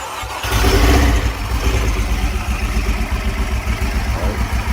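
A car engine cranks and catches on a jump box, then settles into a steady, loud idle that rumbles on without letup.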